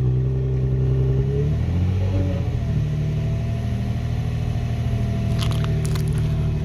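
An Infiniti engine, from an FX35 or G35 coupe, is held at about 1500 rpm: a loud, steady mid-range drone that settles after a brief change in pitch, with faint clicks and rattles over it near the end.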